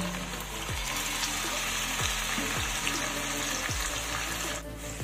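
Spice paste for a paneer curry sizzles steadily in a pan over medium-low heat, a dense, close frying hiss broken by a few short scraping strokes of a spoon.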